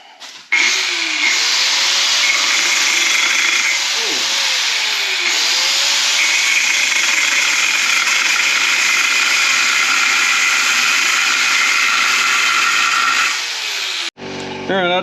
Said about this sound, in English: I'm just going to trim that off with the cut-off tool